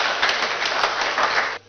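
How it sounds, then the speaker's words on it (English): An audience at the opening of a cashew master training programme claps warmly to welcome the managing director of the African Cashew Alliance. The applause is steady and brisk and fairly close, then cuts off abruptly near the end. "Shall we receive the Managing Director of the lead implementing organization, the African Cashew Alliance, Mr. Ernest Winter, with a round of applause"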